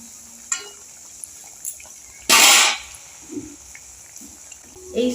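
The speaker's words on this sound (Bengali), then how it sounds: "এবার আমি ভেজে নেব মিষ্টিটা।" Semolina sweets dropped into hot oil in a wok set off a sudden loud burst of sizzling that lasts about half a second, then fades. Quiet clinks and soft bubbling come before and after.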